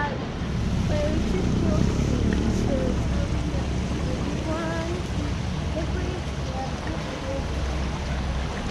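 Small boat on the water pulling away, a broad wash of engine, waves and wind noise with faint chirping bird calls through it, and voices murmuring in the background.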